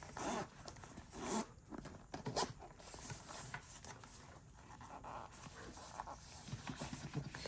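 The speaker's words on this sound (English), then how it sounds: "Got a little zipper." A zipper on a camera case for the Osmo Pocket 3 is pulled open in short, close, raspy bursts mixed with soft rubbing and handling noises, quiet and without talk.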